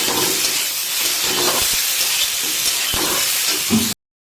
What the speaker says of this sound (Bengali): এটাকে এই নুন হলুদ দিয়ে বেশ কিছুক্ষণ আর একটু ভেজে নিতে হবে, যতক্ষণ না বেগুনগুলো একটু সফট হয়ে যায়